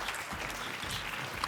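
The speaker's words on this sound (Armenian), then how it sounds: "Բարձր ծափահարություններ" The studio audience of a Armenian TV singing show, Two Stars, bursts into loud, steady applause, a dense wash of clapping throughout.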